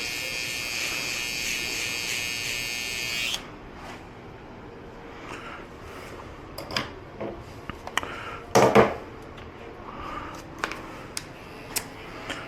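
Hair clippers cutting a high taper fade buzz steadily close up for a few seconds, then stop, leaving quieter handling taps, knocks and brief clicks of the tool.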